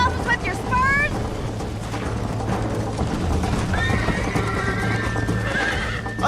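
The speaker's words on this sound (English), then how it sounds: "I think you chose the wrong horse" In Red Dead Redemption, horse hooves clip-clop steadily while horses whinny in sharp rising calls near the start and a longer neigh later, with voices talking over the ride.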